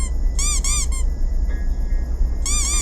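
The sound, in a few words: squeaky rubber duck squeaking in a video game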